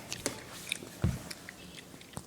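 A puppy gnaws on a toy, making soft, scattered biting and chewing clicks with one firmer crunch in the middle. The sounds are faint and close.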